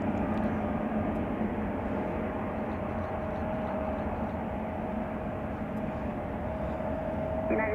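A DHL Boeing 777 freighter at Chicago O'Hare gives off a steady, continuous engine roar with a faint sustained whine, holding constant in level throughout without any talk.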